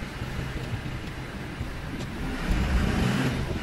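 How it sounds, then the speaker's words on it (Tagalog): Steady low road rumble of traffic heard from inside a Foton truck cab in the Philippines, a continuous near drone of engines and tyres with no talk. "Traffic"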